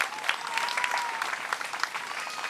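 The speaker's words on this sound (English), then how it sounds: "Give yourselves a round of applause for being here." Crowd applause at an outdoor youth Black Lives Matter march, a steady wash of many hands clapping with sharp individual claps standing out, fairly loud and continuous throughout.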